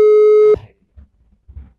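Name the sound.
phone call busy signal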